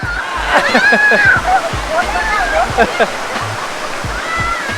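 Kinnaree waterfall in Bueng Kan pours in a constant loud rush of falling water, with people chatting and calling out over it throughout.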